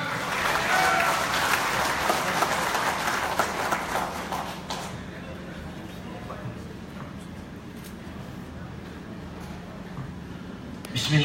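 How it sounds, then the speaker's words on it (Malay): Audience applause at a Pakatan Harapan political convention in Negeri Sembilan, a broad sustained wash of clapping in a large hall that fades after about five seconds into crowd murmur. "Beri tepukan."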